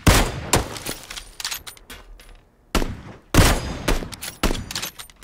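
Gunfire in the PUBG battle royale video game: a quick series of sharp shots and bursts at varying distances, some loud and close and others fainter, with brief gaps between volleys.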